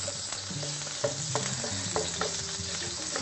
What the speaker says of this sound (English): some nice little breast of chicken there to get that in there, fry that off